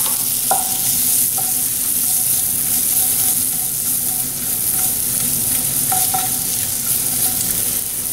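Half a chopped red onion sautéing in compound butter in a pan, a loud steady sizzle up close with a few faint utensil clinks, no voices.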